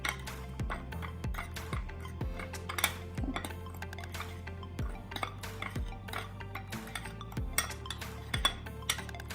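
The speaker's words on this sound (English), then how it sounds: "So we'll just mix these up." A utensil clinks steadily against a bowl while dry spices are mixed for air-fried okra, giving repeated sharp taps at a quick, even rhythm, close and clear with no voice over it.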